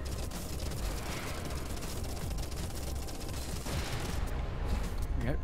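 Rapid spaceship cannon fire in the space combat game Everspace 2, a continuous dense stream of gunshot bursts mixed with game effects, steady and loud throughout.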